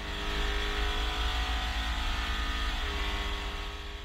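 Racing car engines roar loudly as they accelerate in a continuous, dense blare that holds steady and fades slightly toward the end, with no talking.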